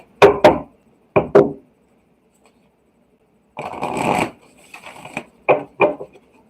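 Tarot cards are shuffled in quick riffling bursts: a few short snaps at first, then a longer ruffle followed by two more crisp flicks.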